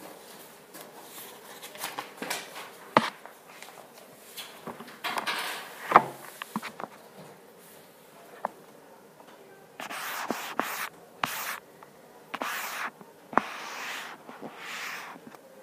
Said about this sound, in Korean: 마지막 페이지 넘어가죠.